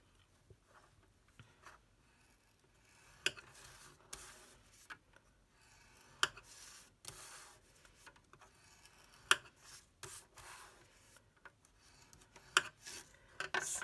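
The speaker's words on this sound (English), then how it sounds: "we are simply going to score on all 4 sides at 1/2 inch" A paper-crafting scoreboard tool scores card stock on all four sides for a Christmas treat holder, producing soft repeated scraping strokes with light clicks, faint and close with no voices.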